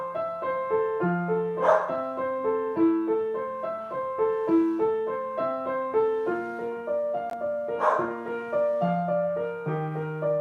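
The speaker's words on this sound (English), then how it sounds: "He's going to bark on beat." A dog barks in time with a piano playing "Colour My World", giving a few sharp, evenly spaced barks over steady notes.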